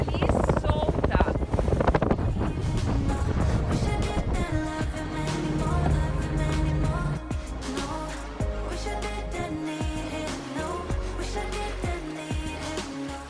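Breeze gusting over a sailboat racing in a regatta off Croatia, heard as loud, blustery wind buffeting the microphone, with faint voices and other onboard sounds mixed in beneath the rushing air.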